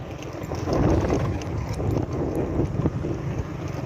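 Motorbike riding along a canal near Changa Manga forest, a steady engine rumble mixed with gusty wind buffeting the microphone, close and continuous with no talking.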